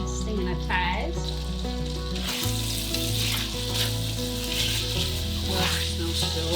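Food frying in avocado oil in a homestead kitchen keeps up a steady sizzle beneath a prominent low sustained hum and tonal background music, with a faint voice at the start.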